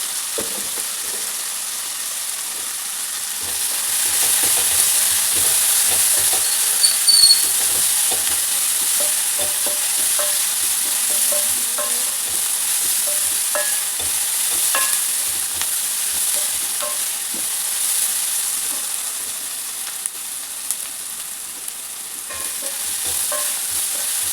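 Onions fry in a pan with salt and turmeric, a steady loud sizzle punctuated by the scraping and tapping of a stirring utensil, with no voices.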